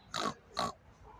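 A person imitating a pig's grunt, as part of a school talent show mimicry act, produces two short, close, snorting bursts in quick succession, then a faint trailing sound.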